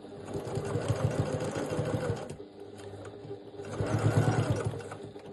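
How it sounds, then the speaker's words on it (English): A sewing machine runs a line of stitches back over earlier ones on a three-zip crossbody bag in a small home studio, a steady close mechanical whir in two bursts with a brief slowdown between. "now I'm going to go back over those stitches I just did"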